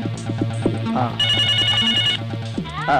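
A telephone rings in repeated bursts of an electronic bell tone, loud and close, over a steady low hum, with a voice speaking briefly near the end.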